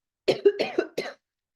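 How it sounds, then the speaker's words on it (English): A lecturer coughs into a quiet room, a quick cluster of three or four close, dry coughs in a single burst before silence returns. "I'm going to cough"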